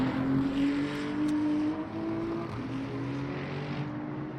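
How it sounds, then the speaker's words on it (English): A deep, steady Lexus race car engine in the video game Le Mans Ultimate drones continuously, with a low rumbling tone that shifts pitch slightly as it runs, loud and close. "It's a very deep sound, isn't it, on the Lexus?"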